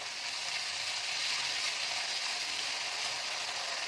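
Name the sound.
fish frying and being stirred in chili garlic sauce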